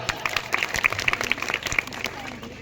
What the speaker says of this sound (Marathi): जोरात टाळ्या वाजूया